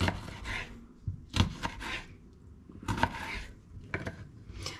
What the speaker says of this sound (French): Alors, je vais couper mes tomates. Je vais les couper en petits carrés.